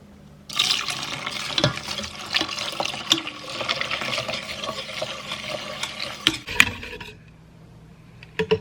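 Milk poured into a bowl of egg and sugar mixture for bread pudding, a steady close liquid pour and swirl lasting several seconds with small clinks and splashes, then tapering off near the end; no talking.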